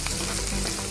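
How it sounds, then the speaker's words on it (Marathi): Ingredients for kansa chivda roast in a hot pan until brown, a brief dense crackling sizzle, loud and close, with no voices. "चांगला ब्राऊन कलरवर भाजून घ्यायचा"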